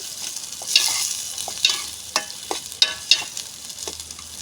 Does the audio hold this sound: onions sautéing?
yes